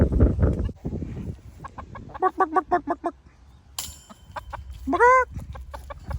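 Backyard chickens cluck in several short bursts of rhythmic calls, with a higher drawn-out squawk near the end, close and moderately loud against quiet outdoor background.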